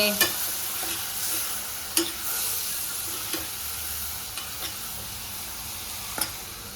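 Steady frying sizzle from a pan of vegetables in hot oil, with occasional sharp clicks of a utensil stirring, close and continuous.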